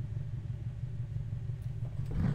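A cammed offroad truck engine in BeamNG.drive idles with a low, lumpy rumble, steady and fairly quiet, swelling slightly at the end with no talk over it.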